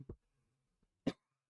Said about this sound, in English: I'm gonna mute while I finish out this cough.